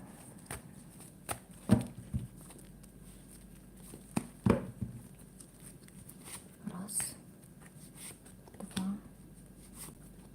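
Cards riffle and snap in a few quick bursts, with soft handling noises and faint murmuring in between.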